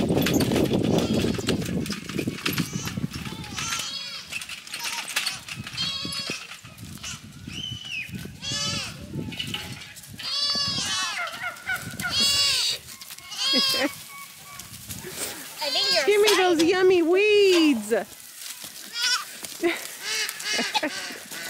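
Several farm goats bleat repeatedly as a wagon load of weeds arrives, overlapping wavering cries near and far, with rustling and movement between calls.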